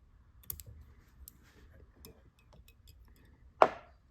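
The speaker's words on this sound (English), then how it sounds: "now you're going to use your scissors" Scissors snip fly-tying material on a Prince nymph, a few faint clicks ending in one sharp, louder cut near the end, otherwise quiet.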